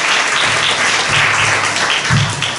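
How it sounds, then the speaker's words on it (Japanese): An audience applauds after a speech at an anniversary live music event, continuous dense clapping that holds steady and begins to fade near the end, with a faint voice underneath. "拍手をお願いいたします。"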